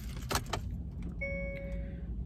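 Keys jangle briefly, then the car is switched on, bringing faint electronic tones from the dashboard that hold steady under a low cabin hum.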